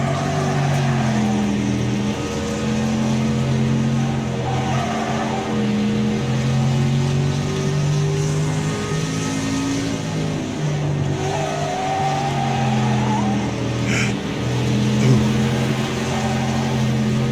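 Several race car engines in the Wreckfest video game at Hilltop Stadium drone and rev continuously, with layered shifting engine tones as cars pass nearby, loud and steady throughout.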